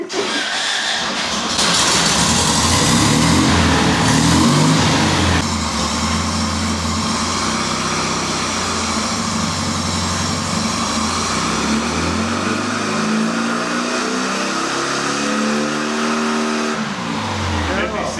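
A Volkswagen engine fitted with a power pulley revs on a dyno, a loud sustained mechanical roar that rises in pitch and then holds steady, with people talking over it.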